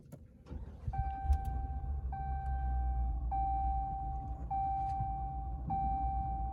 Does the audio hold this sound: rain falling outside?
no